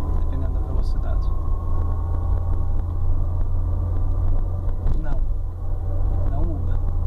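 Peugeot 307 with an AL4 automatic transmission drives in second gear with the torque converter locked, its low engine drone steady and close while someone talks over it.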